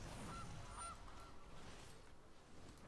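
A goose honk sound effect from the digital card game MTG Arena, a couple of faint nasal honks sitting over a steady noisy background.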